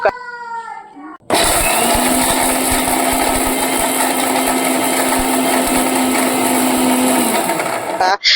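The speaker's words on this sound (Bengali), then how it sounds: "পেস্তা কাজু এ দুটো আমার একসঙ্গেই গুঁড়ো করে নিলেই হবে" An electric grinder powders pistachios and cashews together, roaring loud and steady for about seven seconds after a short bit of speech, then stopping abruptly.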